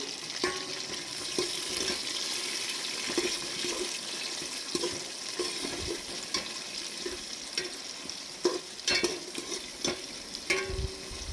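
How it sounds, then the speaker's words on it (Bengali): Chopped tomatoes being stirred in a pan with ginger for a vegetarian khichdi, a sizzle under repeated scraping and knocking spoon strokes throughout. "কুচিয়ে রাখা টমেটো। টমেটোগুলো দিয়ে একটু নাড়াচাড়া করে নেব।"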